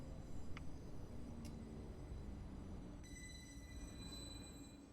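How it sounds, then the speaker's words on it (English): A Class 745 electric multiple unit rolls slowly into a platform in Train Simulator Classic on the Ipswich to London Liverpool Street route, with a steady low rumble of running gear, faint high whines and a couple of brief squeaks. "We're just dragging the end of the train into the platforms"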